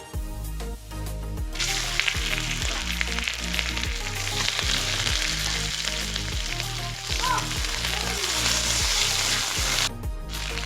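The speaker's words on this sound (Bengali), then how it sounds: "চালটাকে বেশ কিছুক্ষণ নাড়াচাড়া করে নিয়েছি।" Soaked, swollen rice for basanti pulao hisses and crackles in hot fat in a pan while being stirred, with a loud, continuous sizzle. Low steady hum and faint scraping sit underneath, and the sizzle cuts off briefly near the end.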